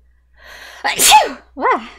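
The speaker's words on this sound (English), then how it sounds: "I have to sneeze." A person sneezes loudly, following a brief sharp inhale, then makes a short vocal sound afterward.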